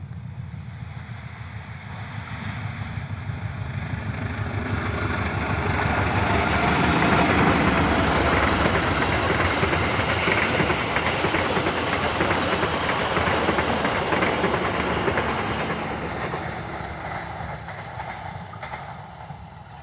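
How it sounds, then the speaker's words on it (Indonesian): A local Bandung Raya passenger train rumbles past with rhythmic clickety-clack of wheels on rails, swelling as it nears and fading slowly as it moves away. "itu dia kereta api lokal Bandung Raya sudah lepas stasiun Cilengka"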